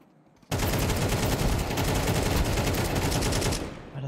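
An AK rifle sprays a long, loud burst of automatic fire in Counter-Strike 2, a dense rapid rattle that bursts in suddenly after a near-silent start and keeps going for about three seconds before easing off.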